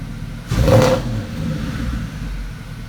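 A Porsche Cayenne SUV engine revs up sharply for about half a second, then settles into a steady, rumbling idle close by.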